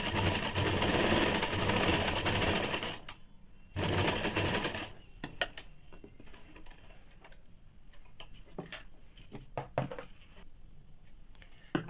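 A sewing machine stitches fabric for a pocket on a ladies' pant, a loud continuous run of rapid needle strokes that stops after about three seconds, resumes briefly, then gives way to quiet handling clicks and taps.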